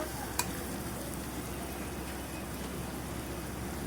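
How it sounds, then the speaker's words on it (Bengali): Onions frying in oil in a pan for a Bengali prawn bhuna, a soft, even sizzle hissing steadily at low volume with one faint tap partway through and no talking. "আমি পেঁয়াজটা ভাজে নিব। পেঁয়াজটা আমার ভাজা হয়নি, আর একটু ভাজা হবো।"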